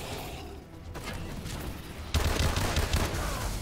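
A turret fires in Call of Duty Advanced Warfare Exo Zombies on the Descent map. A dense fusillade of rapid game gunfire rattles steadily, then turns louder and heavier partway through with booming low impacts.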